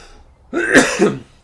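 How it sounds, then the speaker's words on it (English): A man gives one short, close, harsh clearing of the throat with a cough-like burst, about half a second long, then quiet. "Got a cough. Clear my throat because it always fucking phlegms up."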